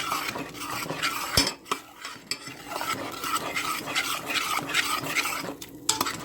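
A utensil stirs cornstarch into cold milk and vinegar, scraping and clinking against the container in a steady, busy rhythm, close and moderately quiet.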